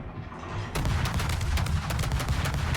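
Warship guns firing in World of Warships, aimed at an Alvaro de Bazán-class destroyer's secondary battery side: a quiet lead-in gives way to a loud, sustained barrage of rapid booming shots, with dense rumbling fire continuing to the end.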